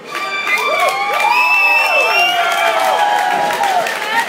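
Crowd at a Rival Sons rock club show cheering loudly and steadily, with whistles, shouts and scattered clapping rising over a dense roar.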